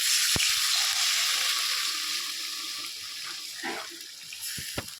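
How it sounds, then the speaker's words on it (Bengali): Water pours steadily into lentils being readied for a curry, a continuous hiss and splash with a few small knocks near the end and no voices. "বেশি করে জল দিয়ে দেবো।"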